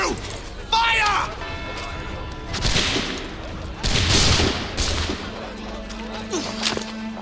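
Musket volley fired on command in Assassin's Creed III, heard as several sharp, loud cracking bursts spread across the scene, with shouted voices between the shots.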